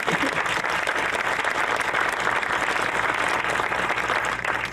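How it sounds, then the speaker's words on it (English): A crowd at a groundbreaking and naming ceremony for a new St. Clair venue applauds loudly and continuously, a dense wash of clapping from many people that holds steady throughout. "So big round of applause for Randy."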